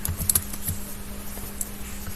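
Soft, quick keystrokes on a computer keyboard while a command goes into a Linux terminal on Ubuntu, with a few light clicks over a steady low hum and no one talking.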